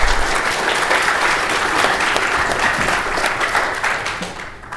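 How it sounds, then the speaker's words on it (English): A conference audience in London gives sustained applause to panel speakers on fintech investing, a full, continuous roar of clapping that stays strong throughout and dips slightly near the end. "Please give them a big applause."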